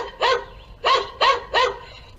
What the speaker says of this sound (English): You can enable the barking dog sound.